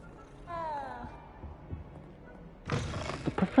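A cat meows in Hogwarts Legacy as it is petted, a short harmonic mew rising and falling once before louder game sounds and movement noise take over; no speech over the meow.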